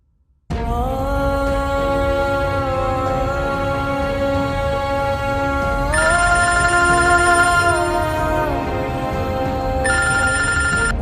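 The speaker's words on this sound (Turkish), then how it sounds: "Telefonunuz uzun zamandır çalıyor efendim." A telephone rings continuously in a tonal, electronic ringtone pattern, loud and steady throughout, with the melody shifting pitch partway through and no voices.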